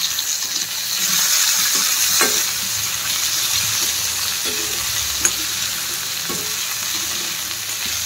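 Food frying in a small wok with only a little oil, a steady close sizzle with occasional stirring scrapes and clinks, no voices.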